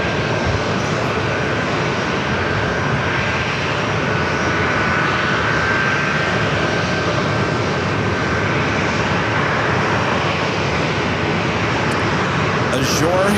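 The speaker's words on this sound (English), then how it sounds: "Arrival is Southwest Airlines Flight 2548 coming in from Oakland, a 737 MAX 8." A Southwest Airlines Boeing 737 MAX 8 arriving at San Diego airport from Oakland roars loud and close as a steady broadband jet noise with a thin whine, continuous throughout, with speech mixed in.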